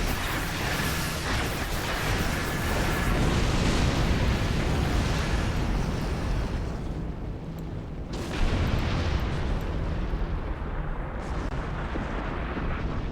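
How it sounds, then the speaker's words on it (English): Phaser Lance weapon firing in a Star Trek video game, a sustained roaring, booming blast that rumbles continuously with a brief dip midway before surging again, loud and close. "Fire Phaser Lance at it."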